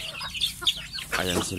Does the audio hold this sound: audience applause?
no